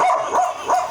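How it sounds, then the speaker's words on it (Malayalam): A domestic breed of dog barking nearby, two loud close barks within a second. "നമ്മുടെ വീട്ടിൽ വളർത്തുന്ന ബ്രീഡഡ് പട്ടിയുടെ ശബ്ദം വളരെ വ്യത്യാസമായിരിക്കും"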